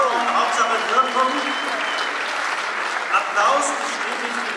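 A crowd claps at the 2024 Blankenese New Year's reception, a continuous spatter of applause with a voice speaking over it.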